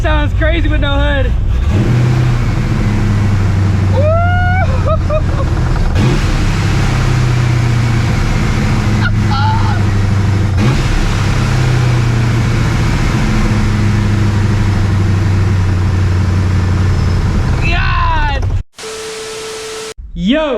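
A supercharged New Edge Mustang GT, driven with no hood, hums loudly and steadily, with a few rising revs and whines between long stretches of cruising. It cuts out abruptly near the end.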